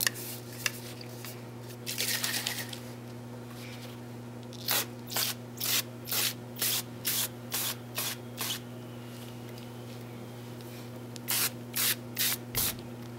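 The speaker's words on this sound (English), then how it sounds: "I'm going to just spray the cutoff rod and let that sit for a little bit" Short hissing bursts from a spray bottle of degreaser onto the metal cutoff rod of a heat seal hand wrap machine: a long squirt, then about nine quick sprays, another pair near the end, over a constant electrical hum.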